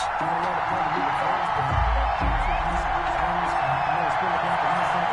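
Football stadium crowd before a Green Bay Packers versus Baltimore Ravens game, a steady broad roar of many voices with scattered whoops, continuous and moderately loud throughout.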